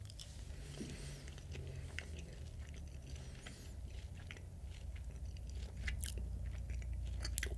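Black garlic cloves chewed close to the microphone, quiet sticky squishing bites with faint crunchy clicks over a low room hum, no talking.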